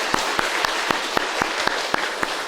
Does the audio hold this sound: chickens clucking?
no